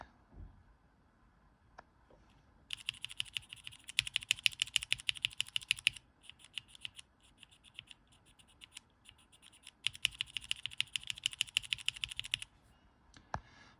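Scratchy vintage Cherry MX Black switches clatter under fast typing on a mechanical keyboard, in two sustained close bursts of dense keystrokes separated by a few scattered taps.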